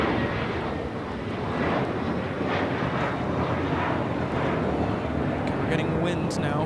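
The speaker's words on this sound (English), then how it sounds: "We're about to have a lot of cargo takeoff action here." Cargo aircraft take off at LAX, and a broad, sustained jet roar fills the whole stretch at moderate distance, swelling slightly, while voices talk intermittently over it.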